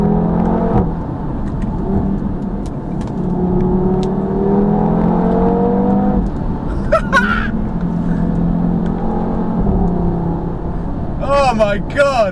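A 2017 Audi TT RS with a sports exhaust revs steadily, its engine note rising and falling in a loud, continuous drone from up close, with a brief voice near the end.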